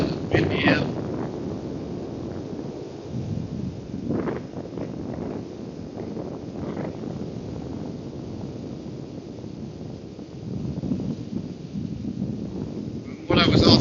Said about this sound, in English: It's still pretty warm, kind of windy out.